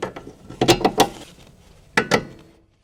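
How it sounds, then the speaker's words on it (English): A 17mm wrench tightens the upper control arm bolts on a 2007 Honda CR-V. Brisk metallic ratcheting clicks come in two short bursts, close and clear, with no talk. "Use a 17mm wrench to tighten the bolts for the upper control arms."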